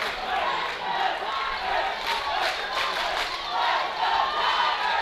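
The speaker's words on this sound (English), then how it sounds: "Crowd is ecstatic right now" A crowd at a high school baseball regional semifinal for the Dripping Springs Tigers lets out a sustained, loud roar of cheering and shouting that stays fairly even across the moment, heard from within the stands.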